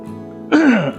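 A single short, harsh cough or throat-clear, loud and close, on a quiet background during a walk along the Cisangkuy floodway near Katapang, Bandung.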